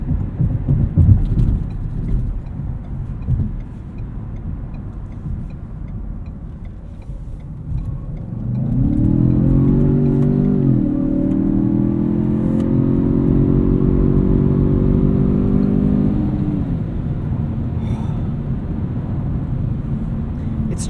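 A 2017 Ford Fusion Sport engine pulls hard in sport mode inside the cabin, a low drone climbing steadily in pitch for several seconds, then settling, with road rumble throughout.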